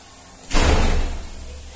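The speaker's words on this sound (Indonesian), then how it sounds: "pelan-pelan dong nih nutup pintu" A door is shut hard in a home, giving one loud, sudden slam with a broad burst of noise. The thud then fades over about a second, with no talk.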